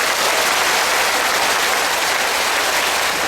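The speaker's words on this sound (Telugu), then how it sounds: "చప్పట్లు." A crowd at a Pyramid Spiritual Society meditation gathering claps in a dense, continuous wash of applause, loud and even from start to finish.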